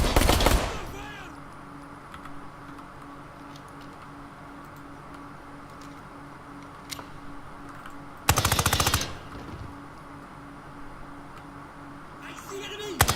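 Gunfire from the tactical shooter Ground Branch: a loud automatic burst at the start, a second sustained burst in the middle and a short one at the end, with quiet ambience and a steady hum in between.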